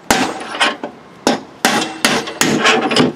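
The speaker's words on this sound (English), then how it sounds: "with a hammer and punch, I'm trying to drive out the bearing downward" Sharp metal hammer strikes on a punch driving a spindle bearing out of a lawn tractor cutting deck, about eight blows in uneven succession, close and loud, each with a brief ringing tail.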